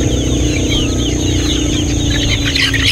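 Breeder roosters on a farm clucking steadily and close, several birds overlapping in continuous calls with a raspy, throaty edge, no talking over them.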